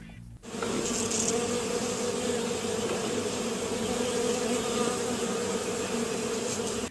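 A dense, steady drone of honeybees buzzing fills the clip, close and continuous with no pauses, a busy hive-like hum throughout.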